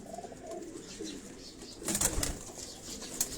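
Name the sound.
pigeon on a rooftop in Karachi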